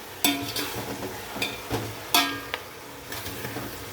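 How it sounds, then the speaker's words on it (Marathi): Fresh coriander and mint being stirred in a pot for white chicken biryani, several close clattering strokes of the spoon over a light sizzle, with no talking. "हा कोथिंबीर पुदिना मी हलवून घेत आहे मस्तपैकी"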